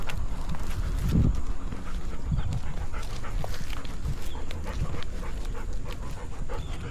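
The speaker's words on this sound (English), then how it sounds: "Yeah, I love working my dog." A working service dog, a female, pants steadily and close by during a relaxation walk, with a continuous low outdoor rumble and scattered footstep-like knocks underneath.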